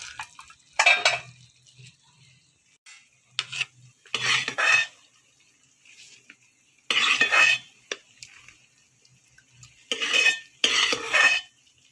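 Jaggery halwa being dished out from a pan, with metal spoon scrapes and clinks against cookware in separate bursts, quiet pauses between them, and no talking.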